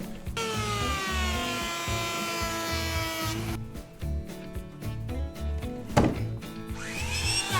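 An electric planer shaves the outer sapwood off a keyaki (zelkova) log, a loud, close whining motor with a steady buzzing grind, then broken into rapid stuttering passes and short scraping bursts.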